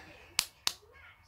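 Two sharp hand claps about a quarter second apart, close and crisp against a quiet room, with no talking over them.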